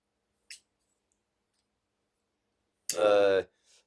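An Eafengrow folding knife with a weighty blade is thumb-flicked open, a single sharp snap after a faint earlier click, followed by a brief small tail sound, close and isolated.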